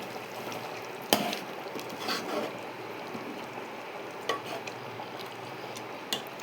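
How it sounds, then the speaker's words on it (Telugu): Gongura chicken stirred in a pot after garam masala goes in, a low steady sizzle under a few sharp scrapes and knocks of the spoon against the pan. "లాస్ట్గా కొంచెం గరం మసాలా యాడ్ చేసుకుందాం. వేసుకొని బాగా మిక్స్ చేసుకోవాలి."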